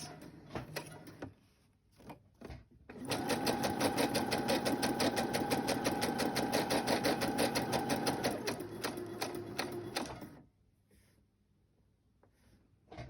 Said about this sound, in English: And then I'm going to keep on going and sew up around this.